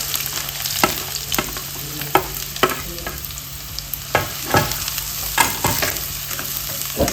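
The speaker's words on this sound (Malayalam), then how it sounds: "ചൂടായ എണ്ണയിലോട്ട് 2 ഇടത്തരം സവാള കുത്തിയിരുന്നതേ അതിട്ട് കൊടുക്കാം." Two medium onions dropped into hot oil sizzle and fry steadily, with repeated scraping stirs of a spoon in the pan while cooking a curry for chapati; close and fairly loud, no talking.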